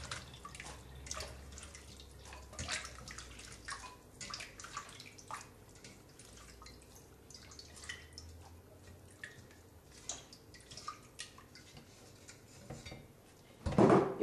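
Banana pieces are washed in a pot of water with soft sloshing, dripping and light clinks against the pot, ending in a louder burst of running water.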